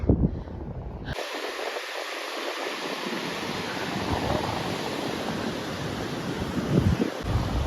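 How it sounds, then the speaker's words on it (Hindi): Mountain waterfall splitting into branches near the Atal Tunnel in Manali, heard as a steady broadband rush of falling water with wind buffeting the microphone, loud and continuous after a brief muffled start. "ये जो वाटरफॉल है यहाँ पे आके डिवाइड हो रहा है।"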